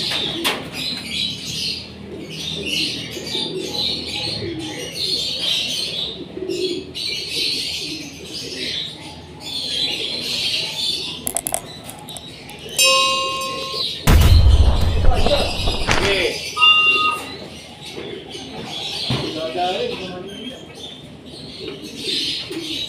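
Racing pigeons coo steadily while being fed for a two-lap derby, with chirps and wing flaps throughout and a loud rustling burst midway.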